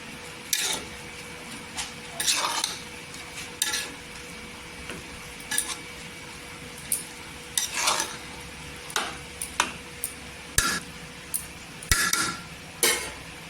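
Pistachios and other dry fruits are stirred into carrot halwa in a pan. A spoon scrapes and clinks against the metal in repeated irregular strokes over a soft, continuous background hiss, with no speech.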